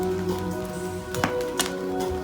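A wood fire heating rocks for traditional Samoan cooking crackles and pops with scattered sharp snaps, moderately close, under steady background music.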